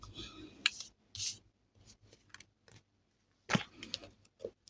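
Slippery tarot cards being handled and shuffled close up: soft rubbing, slides and flicks of card stock in short, quiet bursts separated by near silence.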